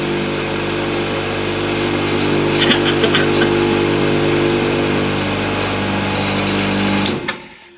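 A homemade large vibration cleaner's motor runs with a loud, steady buzzing hum and a few faint rattles, then cuts off abruptly near the end with a sharp click.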